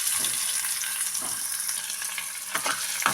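Curry leaves, ginger and onions frying in hot oil in a pan, giving a loud, steady sizzle with a few sharper bursts as the pan is stirred.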